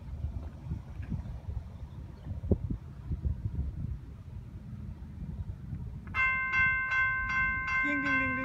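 A BNSF mixed freight train in Mobridge, South Dakota rumbles steadily at low pitch, then sounds a loud, sustained multi-tone horn blast near the end.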